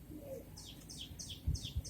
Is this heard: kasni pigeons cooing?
yes